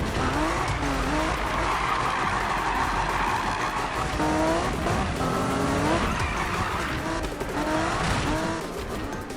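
A drifting car in the Need for Speed 2015 racing game, with loud engine roar and repeated wavering tire squeals sliding up and down in pitch, continuous and close.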